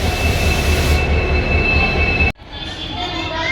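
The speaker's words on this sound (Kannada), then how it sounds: "ತಮ್ಮನ ಟ್ರೈನ್ ಬಂತೆ" A train pulls in at a station platform with a loud, steady rumble and a high wheel squeal, then an abrupt cut to a quieter platform ambience of settling rail noise.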